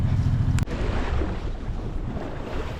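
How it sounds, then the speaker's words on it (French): Steady wind of 8 to 10 knots at sea aboard a sailboat, a broad continuous rushing noise close to the microphone, with a brief knock near the start and no voices. "Enfin un peu de vent."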